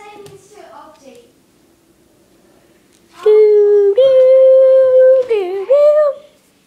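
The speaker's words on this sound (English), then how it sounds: "It's a dog, it's a dog, it's a dog, it's a dog." A puppy howls in long, loud, wavering cries, sliding into whimpers, after quieter talk at the start.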